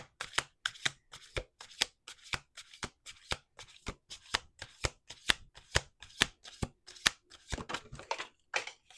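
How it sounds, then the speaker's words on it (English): Tarot cards being shuffled in a quick, steady rhythm of crisp riffling snaps, close up, repeated many times without pause. "Last shuffle."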